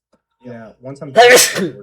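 A single sharp sneeze bursts out near the mic after a brief stretch of talk during a tabletop role-playing game session.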